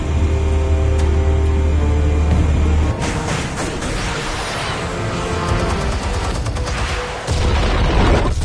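Explosives detonate in a Batman video game, heavy booming blasts with rumbling debris following a low droning hum, then a second deep impact near the end, loud and close with no talk.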